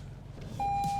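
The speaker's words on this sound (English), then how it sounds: "put your seatbelt on so that beeping stops" A car's seatbelt warning beep cuts in partway through as a steady, unbroken tone over a low engine rumble inside the cabin.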